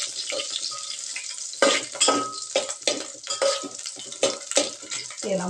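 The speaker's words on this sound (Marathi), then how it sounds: "तेजपत्ता, 4 फूल, दालचिनी आणि लवंग हे थोडे आपण तेलामध्ये चांगलं मिक्स करून घेऊया." Bay leaf, star anise, cinnamon and cloves stirred in hot oil for dry mutton, loud sizzling broken by rhythmic spoon scrapes and metallic clinks against the pan, close up with no talk.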